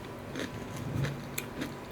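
Close, crunchy chewing of raw shrimp with several crisp bites and crackles in quick succession, no voices.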